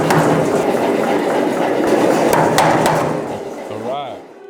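Gas forge in a blacksmith shop roars loudly as it is lit, a dense continuous rush with a few sharp clanks, tapering off near the end as a voice begins.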